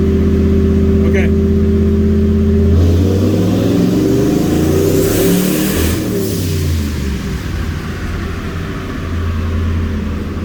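A turbocharged EFI 460 V8 on a dyno holds a loud, steady high-rpm drone, then breaks into rough, shifting revs as it winds down and settles back toward a lower, steady running note.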